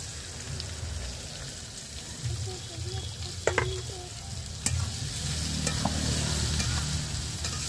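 Thickly cut onions fry in oil left over from frying potatoes, making a loud, steady sizzle with spattering crackle and a few sharp clinks of a stirring utensil against the pan.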